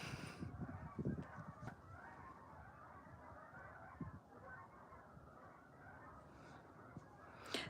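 Geese honk in scattered overlapping calls while flying by ponds at a wildlife watch spot, moderately distant and uneven, with louder bursts at the start and end.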